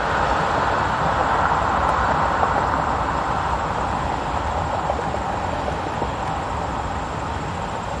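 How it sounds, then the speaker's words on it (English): A train running parallel to Woodward Avenue in Detroit, heard as a steady broadband rumble and rush that holds constant throughout, fairly close, with no talk over it. "Here, train action. A train kind of parallels Woodward."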